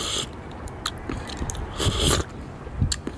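Someone eats a bowl of pho at a Huế-style restaurant in Canada, with soft slurps, bites and chewing sounds coming in irregular bursts close to the mic.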